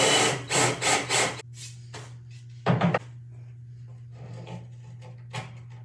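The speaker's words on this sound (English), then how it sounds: "I'm just gonna go nice and slow and easy and get each one of these holes all drilled out." A step bit drilling button holes through an Arcade1Up arcade cabinet control panel, heard as a handful of short, rough grinding bursts over a steady low motor hum, with quieter scrapes in between.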